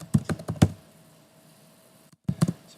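Typing on a computer keyboard: a quick run of four or five close, crisp key taps, a pause, then another short cluster of keystrokes.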